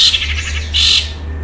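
A long-tailed shrike (cendet), a caged songbird, gives two loud, close, harsh squawking calls over a steady low hum.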